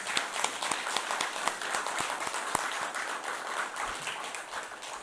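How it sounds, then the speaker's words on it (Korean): An audience at a church academy lecture applauds to welcome Professor Cha to the front, a steady, moderately distant patter of many hands with a few sharper individual claps standing out. "박수로 맞아 주십시오."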